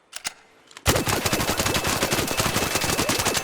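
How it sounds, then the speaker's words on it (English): Stitcher gun in the video game ARC Raiders, a brief few shots and then a loud, rapid, unbroken automatic burst of gunfire that lasts to the end, close and alone. "So this stitcher here, if you can afford to craft it, is going to be really, really powerful"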